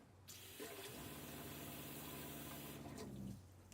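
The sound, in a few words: water faucet running as RV water pump turns on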